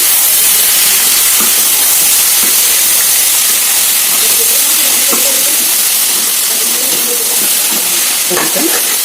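Masala, coconut, ginger and garlic fry in a pan with a loud, steady hiss and sizzle throughout, while a voice talks faintly over it.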